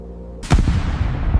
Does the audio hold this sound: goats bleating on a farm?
no